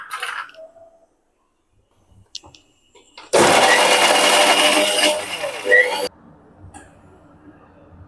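A loud mixer grinder grinds coconut, whirring steadily for a few seconds, then cuts off abruptly, with quiet clicks and handling sounds before it starts.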